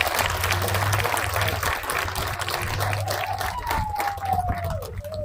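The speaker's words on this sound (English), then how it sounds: "I want to invite everyone to give a round of applause for the janitors of the school" A crowd at the Spanish Springs High School 2021 graduation claps for the school janitors with sustained, even applause that stays full throughout, with a faint whistle rising over it near the end.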